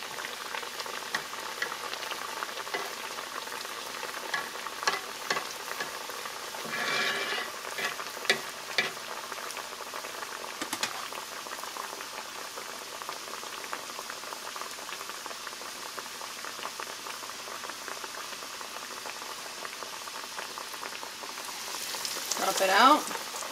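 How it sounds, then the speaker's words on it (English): Ground beef empanadas fry in oil in a pan, a steady close bubbling sizzle that runs throughout with occasional louder spatters and stirring. "you don't want to overcrowd your frying pan or whatever you're frying in"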